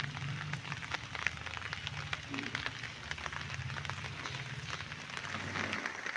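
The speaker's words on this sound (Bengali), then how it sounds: "আমাদের এখানে কাল থেকে বৃষ্টি পড়ছে" Light, unseasonable winter rain patters steadily on flowering garden plants outdoors, a continuous soft hiss with scattered drop taps while a low voice murmurs faintly underneath.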